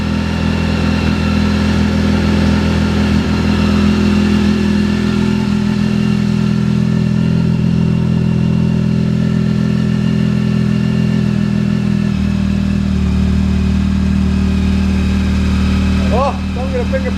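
Honda vehicle's exhaust running steadily throughout, a loud close rumble with an audible shift in pitch partway, while people talk over it in a private collection setting.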